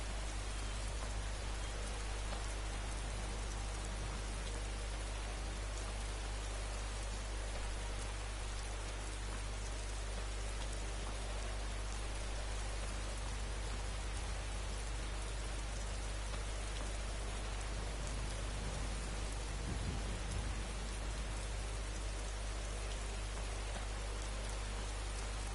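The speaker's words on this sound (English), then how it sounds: "Sounds like a storm." Steady, dense rainfall from a storm in the video game Skyrim, a constant hiss with a low rumbling bed, continuous and even for the whole stretch with no voices.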